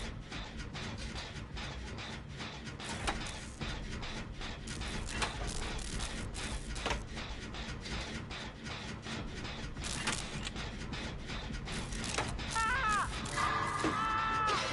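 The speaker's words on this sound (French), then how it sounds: "Même le corbeau il t'insulte quand tu passes, il dit Croco" Crow cawing in the horror game Dead by Daylight, heard amid dense, loud mechanical ratcheting and grinding game noise that fills the whole stretch, with a faint electronic warble near the end.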